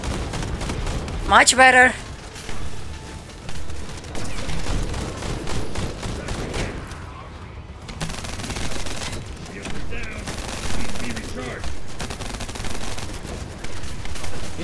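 Rapid gunfire bursts in the looter-shooter game The First Descendant, fighting an elite warden in a dungeon, loud near the start and then continuing as dense, busy combat noise under a player's voice.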